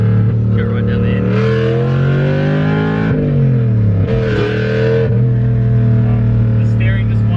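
A Toyota Cressida with a swapped 1UZ V8 revs hard on a dyno, the loud close engine note climbing and dropping through several surges in pitch, steady and dominant throughout, with talk underneath.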